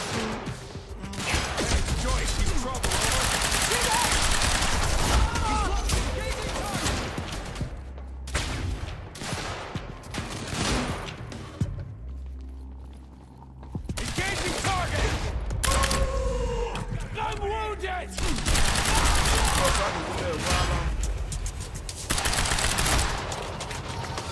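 Sustained gunfire in the video game Quantum Break, set in an industrial area: dense bursts and rattling fusillades that fill most of the passage, easing briefly in a lull near the middle before the shooting resumes loud and continuous.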